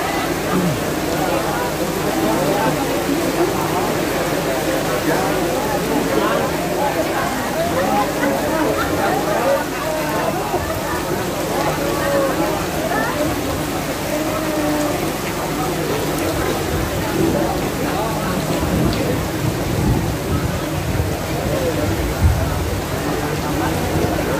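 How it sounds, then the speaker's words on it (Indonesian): Rain falls during an outdoor religious sermon in Sukapancar, Cikijing, a constant broadband wash of hiss that runs unbroken for the whole stretch, with faint crowd murmur beneath. "hujan"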